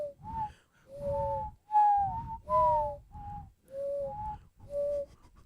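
A person whistles imitations of a dove's cooing call, a series of about seven short hooting notes with breathy low rustle beneath, close and clear with brief gaps between phrases.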